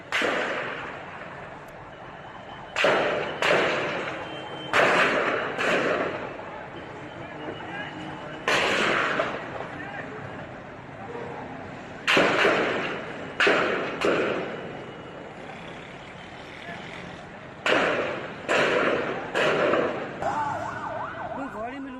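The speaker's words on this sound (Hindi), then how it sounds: "मेन एंट्रेंस पे बहुत शरीर किस्म की फायरिंग हो रही है।" Bursts of heavy gunfire at the main entrance of the Karachi Stock Exchange during an attack, sharp loud cracks recurring in irregular clusters over steady background noise, with people talking in between.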